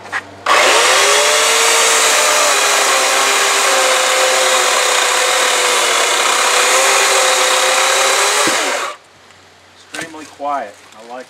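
An electric chainsaw runs loud and continuous for several seconds cutting a log, its whining motor steady, then stops abruptly followed by faint rustling.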